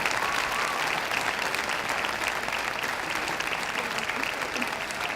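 An audience at an evening event honoring people connected to the BP oil spill applauds itself, a dense, even wash of many hands clapping continuously and loudly for over five seconds with no voices.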